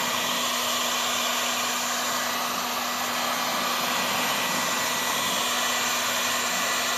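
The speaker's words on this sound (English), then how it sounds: "You can use also the hot gun to dry off." A heat gun blows steadily and loudly, drying candy paint on parts from a 40-year-old Yamaha RXZ trail bike. The airflow roar and a constant motor whine hold unbroken throughout, with no talking.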